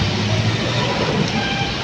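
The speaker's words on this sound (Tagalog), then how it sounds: "Sobrang lakas ng ulan, grabe." Heavy rain pours down in a dense, constant hiss during a storm, heard from beneath an elevated LRT track where motorcycles are stranded. The short stretch is loud and unbroken.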